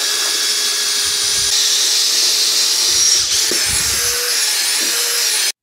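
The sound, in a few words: cordless drill with mixing paddle mixing Knauf Perlfix adhesive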